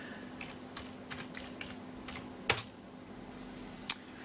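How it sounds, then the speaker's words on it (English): Password being typed on a computer keyboard at a desk, a quiet run of soft key taps with two sharper, louder keystrokes near the end, close up with no talk. "I'm going to click OK, enter my password."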